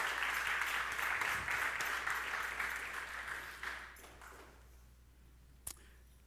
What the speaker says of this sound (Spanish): Dele un aplauso al Señor, porque Él es bueno.